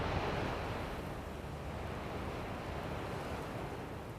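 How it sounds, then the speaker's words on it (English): Faint ocean waves wash steadily in a film sound mix for Dune, a continuous broad rushing surf with wind-like noise and no speech. "There is, buried in the sound mix here, the faint sound of an ocean."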